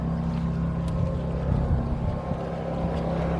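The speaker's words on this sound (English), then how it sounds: "Sorry about my generator. It's making some noise out there" A generator runs outdoors beside Lake Powell, putting out a steady, continuous engine drone with a low hum and faint wind. No one speaks.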